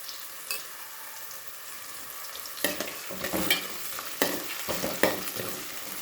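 Onions and two green chilies stirred in hot oil in a pan, a soft steady sizzle with several louder scraping stirs in the second half, close and alone.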